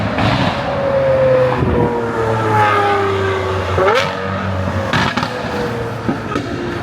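A straight-piped Lamborghini Aventador SVJ at night in Bangkok roars loud and close, its engine note rising and falling through several shifts and revs over about seven seconds, with no talking.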